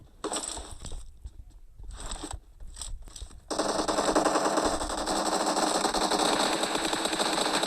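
Automatic weapon fire in an arena shooter game, bursts of rapid rattling shots broken by short gaps, then a long continuous loud stream of gunfire, with no voices.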